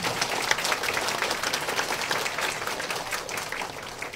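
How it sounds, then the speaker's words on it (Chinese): A packed audience at Professor Lydia H. Liu's book launch for Cross-Writing breaks into applause: dense, steady clapping fills the room for the whole stretch without letting up. "请大家再一次把掌声送给这位同学"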